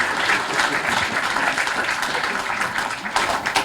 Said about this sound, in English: Let me invite all of you to join me in applauding and thanking Mr.